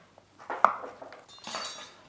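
Chopped pumpkin pieces dropped into a cooking pot, with soft clinks and clatter of pieces against the metal and a scraping rustle, close and fairly quiet.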